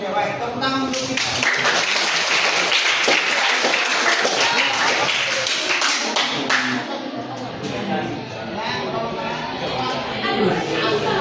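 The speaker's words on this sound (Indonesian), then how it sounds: "Tepuk tangan untuk kita." A class claps for itself: sustained group applause of dense overlapping hand claps that fades after several seconds, with voices mixed in.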